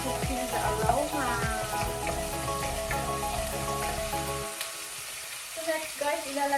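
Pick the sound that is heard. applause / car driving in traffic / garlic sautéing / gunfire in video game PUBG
garlic sautéing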